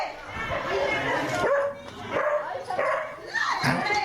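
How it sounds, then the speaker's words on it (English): Several dogs barking and yelping excitedly in bursts at night, fairly close, with agitated human voices talking over them. "Dogs going crazy."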